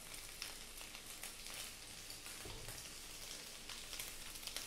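Cooking oil sizzling in a pan beside tender beef for Filipino beef and bean sprouts, a steady close frying hiss with light crackles and no talk.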